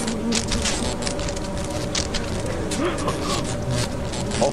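Loud, dense buzzing of many bees swarming close by inside a ship in the video game Lethal Company, continuous throughout, with a voice speaking over it.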